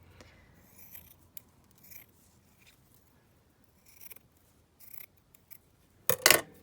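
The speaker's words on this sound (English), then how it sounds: "Yeah, I'm just going to cut some of this down." Scissors cut black lace in a few scattered, quiet snips, then give a louder, close, crisp cut near the end.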